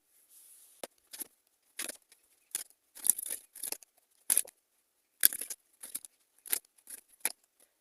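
Tarot cards drawn and handled during a Pisces reading, giving a string of short, crisp papery snaps and slides, about a dozen separate bursts spaced irregularly, close and fairly soft against silence.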